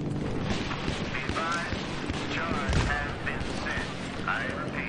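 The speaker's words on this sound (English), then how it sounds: "Who is shooting what?" Gunfire and explosions in a Battlefield 3 multiplayer battle, dense overlapping shots and booms rolling continuously in a busy mix, with players talking over the combat.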